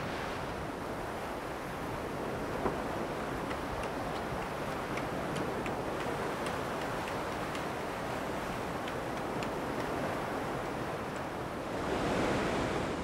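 Steady ocean surf washes continuously with no pauses, a broad rushing roar of breaking waves at an atoll heard from a distance, with faint ticking clicks scattered through it.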